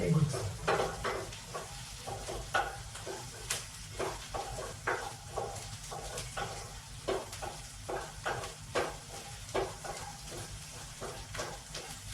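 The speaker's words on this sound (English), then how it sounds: "Onion, when you fry it in the ghee, it has good smell." Onion frying in ghee in a pan makes a soft, constant sizzle, with a rhythmic run of spoon taps and scrapes against the pan recurring about every half second, no talk.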